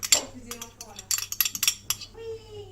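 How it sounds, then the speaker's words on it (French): A small metal spoon scrapes and clinks against a bowl while mustard is scraped off it, a rapid run of close, bright metallic taps and scrapes, then a quieter tail. "Je vais racler avec la petite cuillère"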